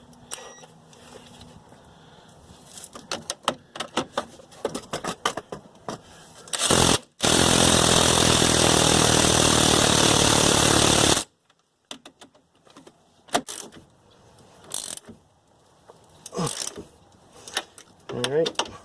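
An 18mm socket on a ratchet works the suspension bolts of a Chevrolet Cobalt SS during a lowering spring install: scattered close mechanical clicks, then a loud, steady rushing burst lasting a few seconds, and then more clicking.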